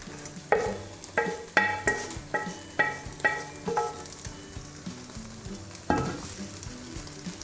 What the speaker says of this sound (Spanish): vamos a introducir el guiso de camarones que hice anteriormente y mezclarlo con el arroz